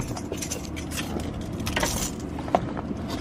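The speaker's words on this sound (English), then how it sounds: "let me take the key out of the ignition" A car key is pulled from the ignition of a Mercedes GLK350, keys jangling softly and continuously up close for a few seconds over a low background rumble.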